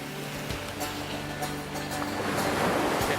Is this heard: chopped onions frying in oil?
no